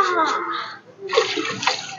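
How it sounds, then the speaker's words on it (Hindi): Heated water poured into a bathing vessel or well-side tub on a cold day, a close, splashing pour with a brief pause midway; no one talks. "पानी गर्म करके ले आई हूँ मैं जा रही हूँ इसमें पलट"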